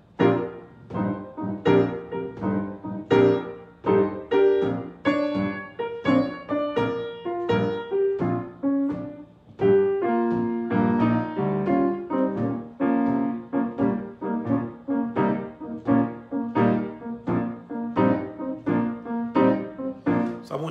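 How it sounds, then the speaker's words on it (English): A shuffle rhythm mixes a stiff beat with triplet swing, played as short, bouncy, lilting notes in a steady loping pattern that stays close and clear throughout. "when we put the two together, we get the shuffle rhythm."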